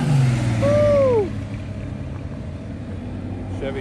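A Chevy truck revs hard and pulls away from a car meet, a loud close engine roar rising in pitch before dropping off quickly as it recedes, with a steadier rumble of other traffic behind.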